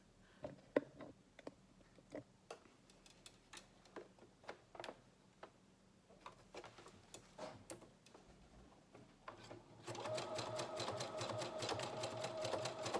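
Sewing machine stitching the hem of a scrub cap: scattered clicks and short needle bursts first, then a steady whirring run of stitching in the last few seconds, quiet and close with no talking.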